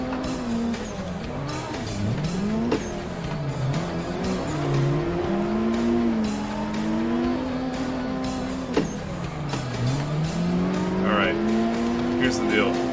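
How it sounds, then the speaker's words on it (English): Drifting race car in the Assetto Corsa video game, a loud engine rising and falling through repeated gear changes with sliding tire squeal, continuous and close, with a person talking over it. "This is a car race."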